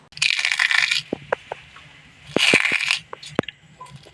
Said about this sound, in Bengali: শব্দ শুনে তো বুঝতেই পেরেছো কতটা মুচমুচে হয়েছে আলুর চিপসগুলো